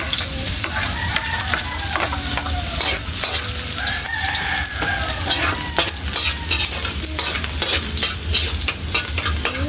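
Garlic and onion fry with potatoes in a pan, giving a steady, close sizzle broken by frequent stirring scrapes, with a rooster crowing faintly in the background.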